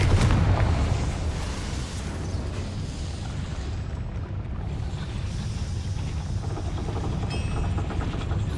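Confringo fire spell exploding in Hogwarts Legacy: a loud, sudden blast at the start that settles into a sustained, rumbling roar lasting several seconds, with no voices.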